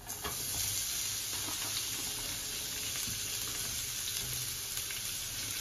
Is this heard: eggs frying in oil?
yes